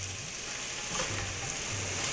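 Potatoes with dill and fresh chopped coriander are stirred in a pan, giving a steady, close sizzle and frying hiss with light scraping and spoon movement throughout, no voice.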